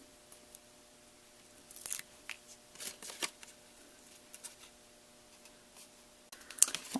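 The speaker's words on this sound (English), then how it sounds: "I've got my score tape on there, and I'm going to peel these off." Backing strips peel off score tape on a paper treat box, giving a few soft, crackly tears and rustles that come in short bursts close to the mic. The sound is faint and there is no talking.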